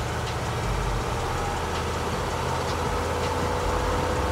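An M998 Humvee engine held at full throttle, a steady, dense roar with a heavy low rumble that stays constant and loud throughout, with no talking.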